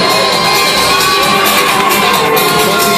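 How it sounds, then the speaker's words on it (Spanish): A crowd at the final of the Chica Latina 2013 pageant cheers and shouts loudly and continuously, an energetic wash of voices filling the hall. "aplauso también para la representante hondureña de Flecha Nubia."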